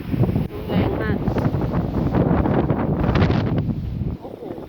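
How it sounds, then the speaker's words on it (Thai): Loud, continuous storm wind rushing and buffeting the microphone outside a house during a powerful storm, with a voice talking over it. "ดูนะลมแรงมากเห็นไหมลมแรงมากเลย"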